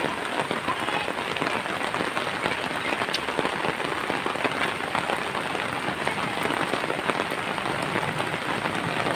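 Heavy rain pours down outdoors in a dense, steady hiss of drops striking the ground and surfaces, loud and unbroken throughout.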